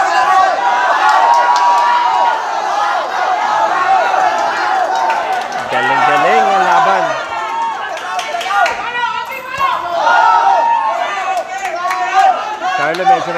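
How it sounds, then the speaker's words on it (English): A boxing crowd at a Philippine flyweight championship fight keeps up a steady roar of cheering and shouting, with a ringside commentator talking over it throughout. "And the crowd cheering him on."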